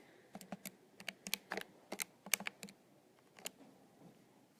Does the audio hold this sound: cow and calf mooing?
no